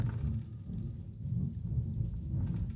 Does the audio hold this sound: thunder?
yes